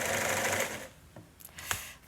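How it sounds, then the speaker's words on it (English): A sewing machine stitching fabric for eiderdown covers while playing up with a fault, running in a loud steady whir that stops after about a second, followed by a few faint clicks and taps. "Her sewing machine is playing up."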